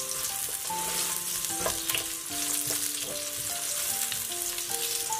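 Chopped scallion, ginger and garlic frying in hot oil in a wok, a steady close sizzle with faint background music running throughout.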